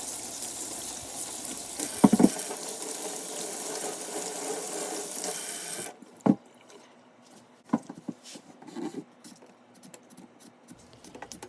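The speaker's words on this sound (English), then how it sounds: "Let's wash the potatoes in the sink" Tap water runs into a kitchen sink while potatoes are washed, a steady hiss with small clunks that stops abruptly partway through, leaving faint handling taps and drips.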